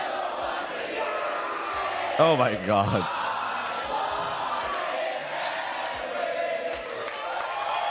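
A wrestling crowd sings and cheers inside a cinema, a steady, moderately loud wash of massed voices running the whole time, with a man's brief exclamation rising over it.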